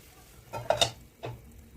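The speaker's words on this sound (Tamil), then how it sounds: "நல்லா கொதிச்சிருச்சு." A spoon stirs an eggplant tamarind curry simmering in a clay pot, giving a few soft scraping and bubbling sounds in short bursts, with no voices.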